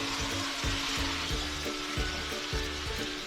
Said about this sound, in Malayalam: അരച്ചു വെച്ച തേങ്ങ ചേർക്കണം